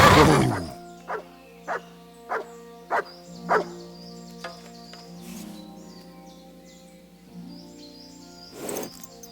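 A dog barking in the medieval video game Kingdom Come Deliverance 2, five evenly spaced barks in a row over a low steady hum and faint birdsong.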